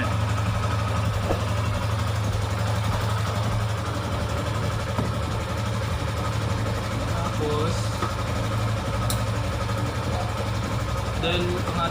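A portable motorcycle air compressor plugged into a power outlet drones steadily with a low, constant motor hum, running continuously while someone talks over it.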